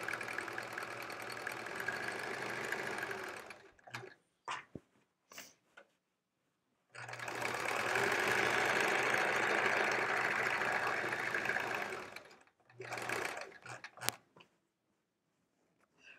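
A sewing machine stitches quilt pieces in two long continuous runs of rapid whirring, separated by quiet gaps with brief clicks and fabric handling.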